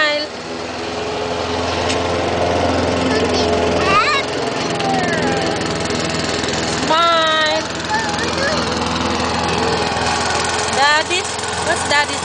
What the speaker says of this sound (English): What's Daddy doing? Mowing.